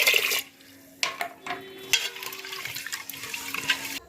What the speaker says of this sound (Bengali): তো জল দিয়ে চালটা আমি ধুয়ে নিলাম খুব ভালো করে